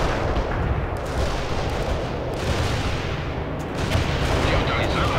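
Sustained gunfire and booming artillery from a World in Conflict battle, a dense continuous barrage with heavy low rumble and repeated impacts throughout, with voices mixed into the combat.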